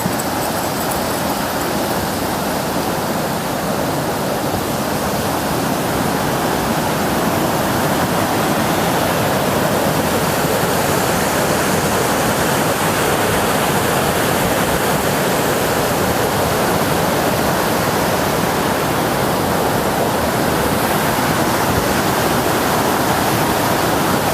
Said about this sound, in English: the background noise is the walking, my shoe steps, the wind, and a little bit of gimbal noise